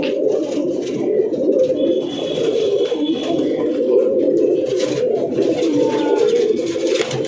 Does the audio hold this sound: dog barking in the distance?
no